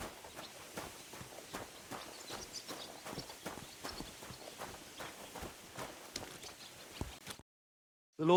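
A horse's hooves clip-clop at a walk in the medieval Bohemian game Kingdom Come: Deliverance II, an even rhythm of distinct close hoofbeats that ends abruptly in silence.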